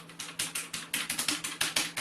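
Rapid typing on a Zboard rubber-dome gaming keyboard, with about a dozen crisp, evenly spaced keystrokes in quick succession, close and clear with no talking.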